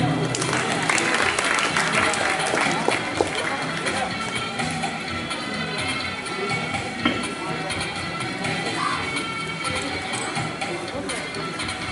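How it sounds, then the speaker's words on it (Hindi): At a school farewell ceremony, a crowd of students and staff claps continuously in a loud, busy wash that runs the whole stretch, with voices and chatter mixed in underneath. "तालियां बजाएं।"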